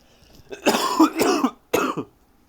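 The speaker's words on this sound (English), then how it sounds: "Hold on, I'm gonna cough right now" Three harsh coughs, close and loud, two in quick succession followed by a third after a short pause.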